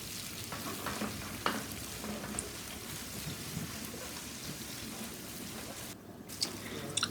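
Skate wing fillets frying in a pan, a steady close sizzle with occasional scraping and light knocks as the fillets are turned.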